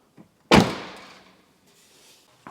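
A car door on a Mitsubishi Evo 8 under restoration shuts with a single loud, solid thunk that rings out and fades, preceded by a faint click and followed by a soft latch sound at the end.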